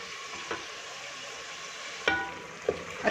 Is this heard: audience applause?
no